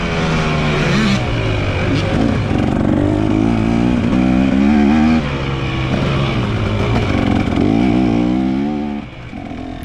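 Dirt bike engines roaring mid-race at a 2023 hare scramble, a loud, close, continuous drone with rising and falling revs from several machines, dropping off sharply at the very end.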